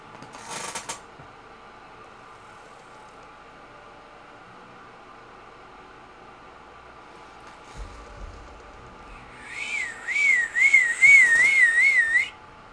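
A whistle sounds in a brief burst early on, then returns near the end as a louder warbling, trilling tone lasting a few seconds over a low steady background hiss.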